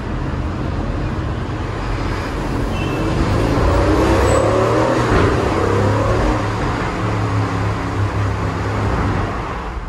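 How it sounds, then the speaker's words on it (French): An Aston Martin Vantage Roadster convertible drives along a coastal road. Steady engine and road noise mixes with wind rush, swelling slightly midway as the car pulls ahead. "profitez de cette belle journée au volant de l'Aston Martin Vantage Roadster"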